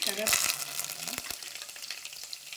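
Curry leaves frying in hot oil in a pan for mirchi pachadi, giving a steady close sizzle with brief stirring clatter and a few sharp pops early on.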